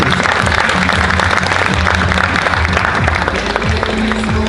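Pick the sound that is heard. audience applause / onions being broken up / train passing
audience applause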